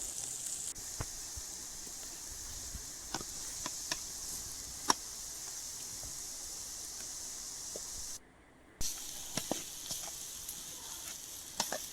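Masala paste sizzles and fries steadily in a hot pan, with occasional spoon clicks and scrapes as it's stirred; the hiss drops out briefly near the end.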